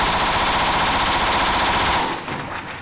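An MG-42 machine gun fires a long, rapid, continuous burst, loud and close, with dense overlapping shots for about two seconds before cutting off into fading echo.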